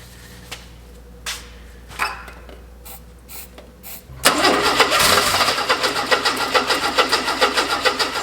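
A car engine cranks and catches after a few scattered clicks and knocks, then settles into a loud, close, rhythmic running idle with pulsing beats.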